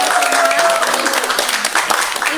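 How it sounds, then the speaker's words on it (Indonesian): An audience at an Indonesian student association podcast applauds its guests with dense, continuous clapping that fills the whole moment at steady loudness. "Mungkin bisa diberi aplaus dulu nih."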